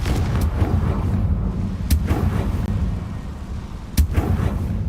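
In Hogwarts Legacy, a Confringo fire spell goes off with a couple of sharp booming blasts over a continuous low rumble of game ambience.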